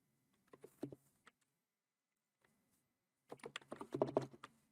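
Quiet typing on a computer keyboard entering a branch name and comment, a short cluster of keystrokes, a pause, then a denser run of clicks.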